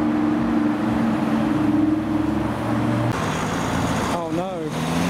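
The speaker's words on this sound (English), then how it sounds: "R8. Sounding pretty loud." A loud Audi R8 drives past at a car show amid a steady wash of traffic and engine rumble, with people talking nearby.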